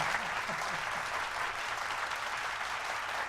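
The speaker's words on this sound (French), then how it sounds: "Ah merci Jérémy pour ces applaudissements" Steady applause fills a radio show studio for the whole stretch, a dense even wash of clapping that stays level from start to finish with no voices over it.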